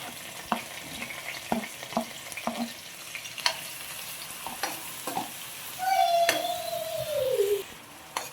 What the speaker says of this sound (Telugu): హీట్ ఎక్కిన తర్వాత సన్నగా కోసి పెట్టుకున్న ఆనియన్స్ వేసుకోవాలి